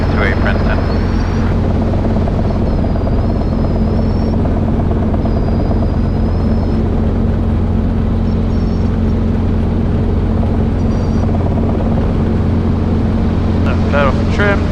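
Steady, loud rotor and engine drone of a Robinson R22 helicopter in flight during autorotation training, heard from inside the cabin, with intercom speech and radio calls over the constant hum.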